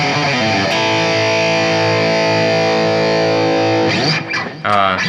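Distorted electric guitar with chorus-like effects plays a sustained, ringing chordal phrase combining open strings and hybrid picking, then breaks into a quick burst of picked notes near the end, loud and alone.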